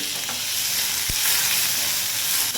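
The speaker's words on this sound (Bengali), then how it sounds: "পেঁয়াজটা একটু হালকা করে ভাজলে কিন্তু হয়ে যাবে আর এর মধ্যে দিয়ে দিচ্ছি একটু হলুদ" Onion with turmeric frying lightly in a pan gives a continuous close, steady hiss and sizzle, with a brief low thump partway through and no talking.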